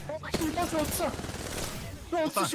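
Gunfire from the video game Apex Legends crackles in quick bursts under steady talking, with shots popping through the speech.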